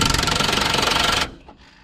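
A power nut buster tool hammering at a truck brake nut during a brake kit upgrade: a loud, rapid rattling impact burst up close, cutting off abruptly after about a second, then faint clatter.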